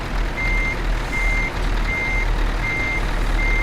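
A truck reverses while parking beside another truck and forklifts in Euro Truck Simulator 2, its reversing alarm beeping steadily in five evenly spaced tones over a constant low engine rumble, no talking.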